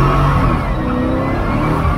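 A drift car accelerates under throttle, its engine a loud, continuous close roar with a steady revving drone throughout and no talking.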